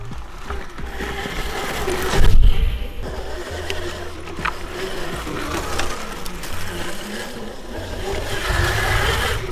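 An electric motorcycle riding along dirt trails, a steady whirring drive with rumbling terrain and gravel noise, loud and close throughout with a brief surge partway through.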